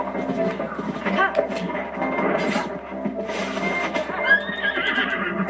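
A horse whinnying in the video game Zelda Breath of the Wild, heard amid busy game sounds and galloping hooves, with a bright neigh rising near the end.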